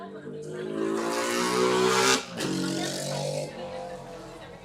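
Racing motorcycles at the Tandragee 100 road race, engines revving and droning together as they head back toward the line, with a brief dip and a rise in pitch, heard at moderate distance.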